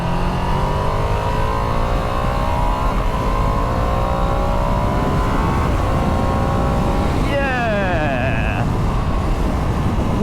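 A 2022 Ducati Streetfighter V2 motorcycle being ridden, its engine droning steadily and loudly with wind noise, and a rising whine near the end as it picks up speed.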